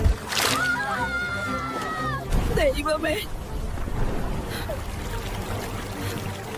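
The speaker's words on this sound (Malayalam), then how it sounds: "വീട്ടിലൊക്കെ വെള്ളം കയറി." Floodwater sloshes and rushes through a house after a landslide, a steady churning wash under a frightened voice crying out.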